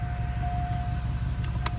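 A 2001 Cadillac DeVille engine idles steadily up close, a low rumble running the whole time with a faint steady whine above it and a couple of brief clicks near the end.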